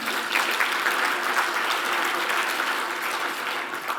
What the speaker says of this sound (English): Please give the chairman a round of applause again.